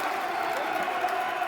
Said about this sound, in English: You can hear the crowd responding.